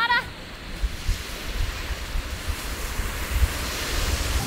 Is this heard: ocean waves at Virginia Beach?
yes